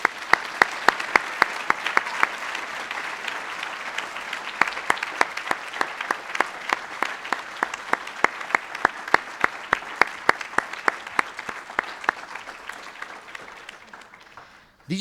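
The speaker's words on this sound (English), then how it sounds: "And let's give them a round of applause." An audience applauds at a university lecture for two education scholars, a long, even bed of clapping with sharp individual claps standing out near the microphone, steady for many seconds before fading.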